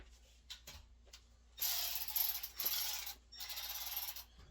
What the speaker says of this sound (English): So I'll take out that screw.